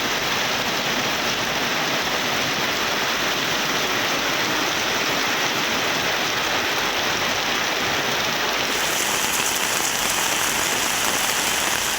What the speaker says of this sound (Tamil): இரவில் மழை கொட்டி தீர்த்ததால் வெப்பம் தணிந்தது